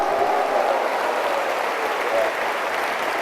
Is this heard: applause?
yes